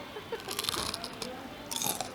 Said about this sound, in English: Let's see how people will hear my crunch.